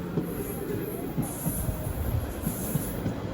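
A train pulling into Kannamangalam station, a close, low rolling rumble with rhythmic wheel thumps and a faint high squeal above, continuous throughout.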